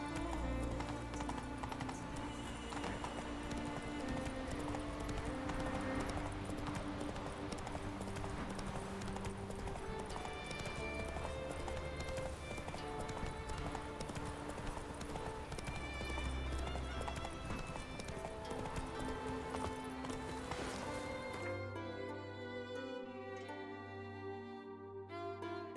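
Hooves of a horse clip-clopping in a steady rhythm across the ground in The Witcher 3 video game, with an occasional whinny and background game music running underneath.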